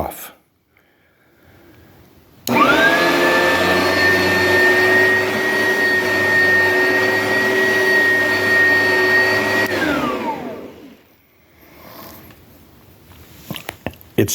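A vacuum cleaner switches on with a click and runs with a steady, loud motor whine and hum for several seconds, then winds down after being switched off, leaving a few small clicks and handling noises.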